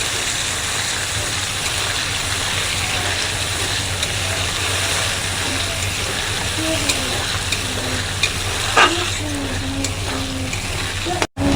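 Borboti (long beans) and paneer being stirred in a frying pan, a steady sizzle with soft scraping strokes running throughout, close and fairly loud, with no talking.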